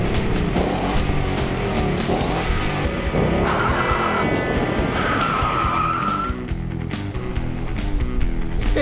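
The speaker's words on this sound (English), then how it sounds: "Rev up your engine!" A car engine revs hard and loud in winter conditions, its roar running continuously with screeching, skidding tire squeals layered over it.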